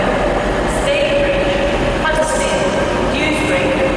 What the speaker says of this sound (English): And here's my train coming in to take me home.